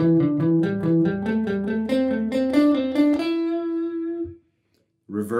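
Distorted electric guitar plays a quick pentatonic scale run in groups of three, rising steadily before settling on a held note; a short silence, then another note begins.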